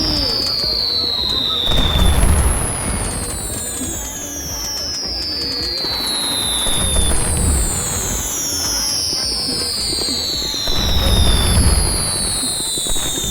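Repeated fireworks: high whistling rockets rise, each followed by a heavy boom and crackle, several volleys a few seconds apart.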